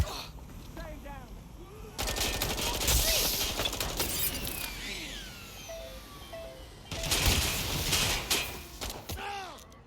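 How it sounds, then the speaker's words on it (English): Gunfire rings out in the video game Watch Dogs Legion, with loud rapid bursts of automatic fire in two heavy volleys separated by a quieter gap of scattered shots and game effects. "You've got gunfire! Careful! Shots fired!"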